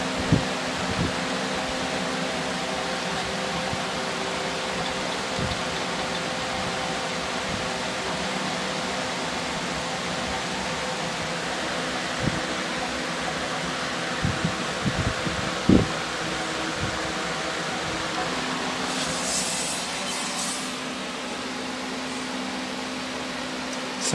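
A 2006 Suzuki Hayabusa 1300 rear wheel with a slight wobble spins freely, giving a steady airy whir with a faint tonal hum and a few light knocks and ticks along the way.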